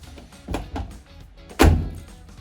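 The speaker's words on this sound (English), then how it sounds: "the door closing." A few light knocks, then one solid, heavy thunk of a car door shutting nearby, with no talking.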